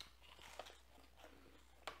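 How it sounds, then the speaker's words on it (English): Someone chews a hard, thick chocolate snack like a chocolate Cheeto, giving a few faint, close crunchy bites over a quiet background. "It's harder to chew."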